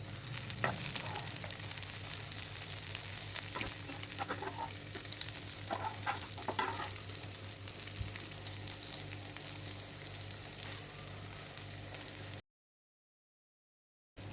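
Chicken pieces frying on a tawa over a low flame, a steady soft sizzle with occasional clinks and stirring knocks, then a sudden cut to silence near the end.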